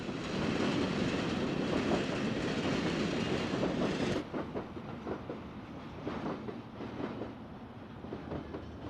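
The eastbound Union Pacific City of Los Angeles passenger train rolls past near Mission Tower in Los Angeles, a loud steady rumble of wheels and cars with rhythmic clickety-clack on the rails, easing somewhat after a few seconds.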